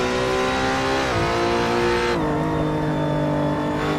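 A race car powers through a tight circuit corner, its engine droning loud and close as the revs dip, then climb again when the gear changes, with no one speaking.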